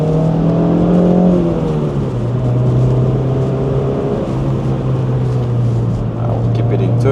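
A car engine revs loud and close during a heel-and-toe rev-matched downshift, its pitch stepping down as the gears shift lower, then holding a steady drone.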